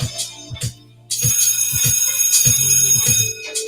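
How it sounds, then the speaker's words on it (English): An alarm bell rings loudly and continuously for a few seconds after a short pause, its bright metallic clanging mixed with heavy low thumps of music. "Let me ring the alarm."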